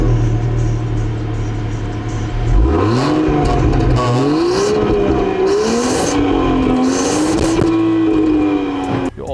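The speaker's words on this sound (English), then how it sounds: "you get chrome tips for the exhaust, and they're dual exhaust and function exhaust," A Range Rover Sport with dual chrome-tipped exhausts idles at a low rumble, then revs up hard, its engine note climbing and wavering through several pulls, loud and close throughout.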